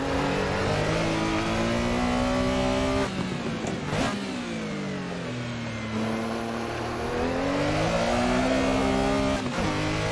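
A Porsche 911 RSR race car in a racing video game on the Jaizkibel hill climb, its engine loud and close, revving up and down through gear changes with rising and falling pitch across the run.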